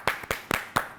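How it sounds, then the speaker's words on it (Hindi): Five sharp hand claps in a slow, even rhythm, close and fairly quiet, with no talking. "जोर से तालियां बजाओ।"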